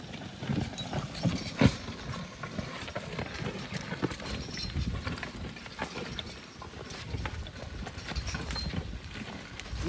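Horses pull a plow across a field, and their hooves clip-clop in a steady, uneven rhythm at close range alongside faint clanking of harness and implement, with no talking.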